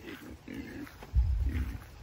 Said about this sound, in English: Look at these pigs.